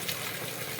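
Rainwater pours off a concrete roof slab in a village during heavy rain, a dense, continuous rushing splash, close and steady throughout the short moment.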